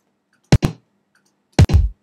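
Two pairs of punchy kick drum hits from an electronic audio sample sound alone, each pair a quick double thump with a sharp attack and short decay, separated by about a second of silence.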